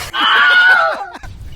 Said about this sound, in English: It is the Wilhelm scream.